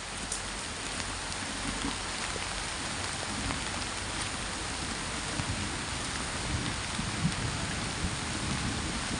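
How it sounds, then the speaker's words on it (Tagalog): Heavy rain pours down in a steady, dense roar with no break, and no voices can be heard. "Sobrang lakas po ng ulan tol."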